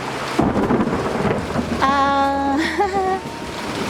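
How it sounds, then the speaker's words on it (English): Heavy rumbling thunder rolls through an outdoor garden during a storm, loud and sustained over rain, with a tonal hum rising partway through. "I hope it stops thundering because I'm outside"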